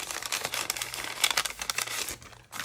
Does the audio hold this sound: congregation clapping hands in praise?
no